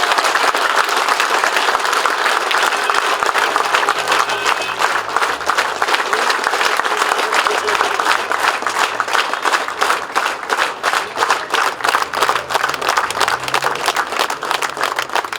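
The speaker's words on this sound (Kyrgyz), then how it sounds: "Мынакей бүгүнкү кол чабуулар ушул болуп атат." A crowd at a Kyrgyz political party gathering claps steadily for the full stretch, dense loud applause that swells and breaks into sharper individual claps toward the end, with a few voices murmuring beneath.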